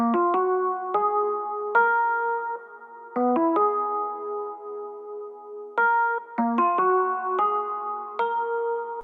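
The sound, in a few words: Rhodes lead synth from Omnisphere in FL Studio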